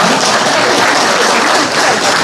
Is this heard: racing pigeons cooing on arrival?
no